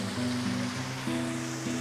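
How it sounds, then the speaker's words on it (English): Water pours steadily across the wooden water wheel of Cable Mill in Cades Cove, Great Smoky Mountains, a continuous close rush with a low, steady mechanical hum running beneath it. "Water just flows right across the wheel."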